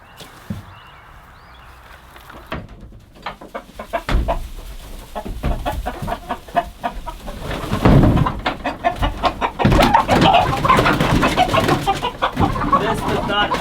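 Chickens and two large roosters cluck and squawk loudly and close up in a coop, growing more agitated and frantic with flapping and scuffling, a busy flock sound.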